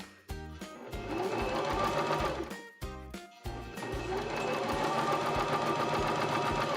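A Baby Lock Zest sewing machine runs in bursts while top stitching, a close rapid mechanical whirr and tapping that pauses briefly twice and then carries on steadily, with no one speaking.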